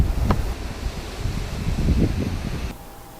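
Wind blows hard outdoors on a windy day in the Lower Keys, loud gusty rumbling and rustling on the microphone that rises and falls before easing near the end.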